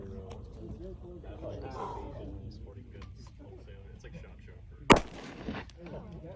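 A single loud gunshot fires a G9 Defense EHP external hollow point bullet into a test target, a sharp close crack near the end following quieter handling noise and low voices.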